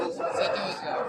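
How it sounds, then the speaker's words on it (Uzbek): Many roosters at a crowded poultry market crow and cluck together in a dense, overlapping chorus, close and loud, with people's voices mixed in. "Mana xo'roz nihoyatda ko'p xo'roz."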